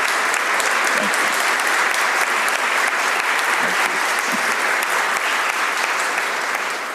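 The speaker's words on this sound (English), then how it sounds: "I think those applause were actually for you, Senator Blunt." Dense, sustained applause fills a U.S. Senate conference room, loud and even throughout before easing slightly at the end.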